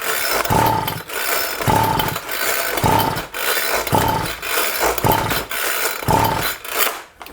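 A Homelite Vac Attack leaf blower is pull-started again and again, six rasping whirring strokes at a steady rhythm, loud and close, and the engine never catches.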